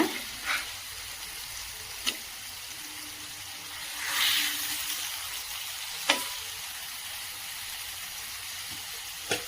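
Fish pieces fry in a pan, a steady close hiss of hot oil with a few sharp spatula knocks and scrapes as the pieces are mixed and turned, swelling briefly in the middle.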